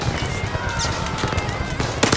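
Turret gunfire in the VR shooter ZeroCaliber, rapid bursts of shots crackling through a busy battle mix, fairly faint and distant, with a sharper louder burst near the end.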